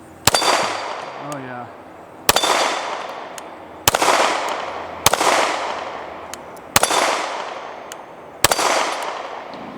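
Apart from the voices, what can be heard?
Canik TP9 Elite SC 9mm pistol shots hitting a steel hostage popper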